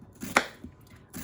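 A knife chops an onion on a cutting board, a few distinct close thuds spaced about half a second apart, one sharper than the rest.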